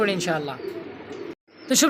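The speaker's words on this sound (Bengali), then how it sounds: "দেখতে পাচ্ছি এখানে আরও দুই পিস কবুতর" Pigeons coo at a farm selling racing pigeons, soft low calls heard close by under someone talking, with a brief sharper chirp near the end.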